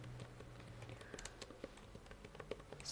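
Typing on a computer keyboard while entering code in PyCharm, with quiet, irregular key clicks scattered over a low steady hum and no talking.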